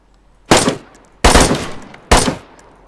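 Gunshots in the survival game DayZ: three loud, sharp single shots spaced under a second apart, each with a ringing, decaying tail, with a fourth starting at the end.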